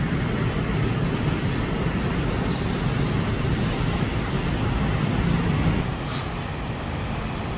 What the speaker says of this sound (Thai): นี่รถไฟ BTS นะครับ